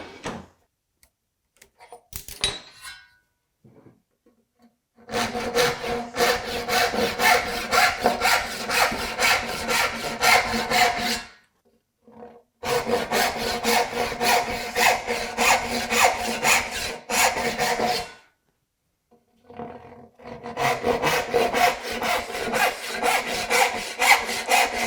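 Hand sawing of wood for a serpentine chest of drawers, cutting a piece at an angle: steady rhythmic back-and-forth strokes in three long bursts separated by short pauses, close and fairly loud with no talk.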